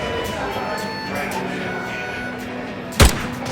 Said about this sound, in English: The gunshots rang out, and the entire bar fell silent.